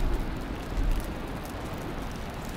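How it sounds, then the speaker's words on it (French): Rain falling in the video game Valheim, a steady broadband hiss with a soft low rumble, continuous and even throughout. "Voilà, il pleut."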